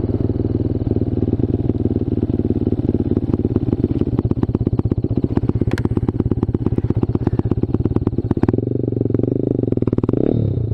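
A Vader ZS190 Honda Grom clone motorcycle rides along, its small engine loud, close and steadily buzzing with rapid firing pulses, shifting to a smoother lower drone near the end.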